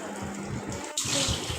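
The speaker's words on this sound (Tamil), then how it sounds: "அதுக்காக தான் பாட்டில் அந்த கண்டெய்னர் பாக்ஸ் எல்லாமே க்ளீன் பண்ணிகிட்ருக்கிறேன்." Tap water runs steadily while plastic containers and oil bottles are washed, the flow growing louder and more splashy partway through this short burst.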